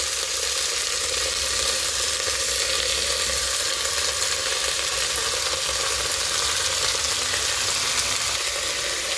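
Tomatoes, radish, yardlong beans and bottle gourd sizzle loudly in hot oil for a vegetable soup, a steady, dense hiss that stays close and constant throughout with no voices over it.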